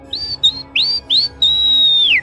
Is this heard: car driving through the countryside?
no